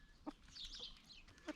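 Hens in a small backyard flock in a Zone 4b winter cluck softly while scratching through warm fresh compost, with a couple of short, sharp clucks and quieter chatter in between, fairly faint and close by.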